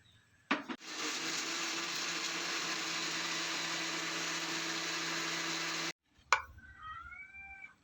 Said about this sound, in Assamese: বিলাহী পেষ্টটো এতিয়া পিচি লওঁ